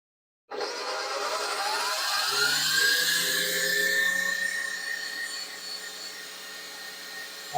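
KitchenAid Pro 600 stand mixer whisking a small amount of egg white: a steady, loud motor whir with a rising whine that holds for several seconds, then eases slightly in level.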